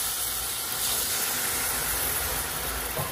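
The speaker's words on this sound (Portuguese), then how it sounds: "o açúcar já derreteu. Vou abaixar aqui o fogo e vou ir jogando água aos poucos." Water poured a little at a time onto melted sugar caramelizing in a pan over lowered heat, giving a steady, loud broadband sizzle and hiss of steam that fills the whole stretch without pause.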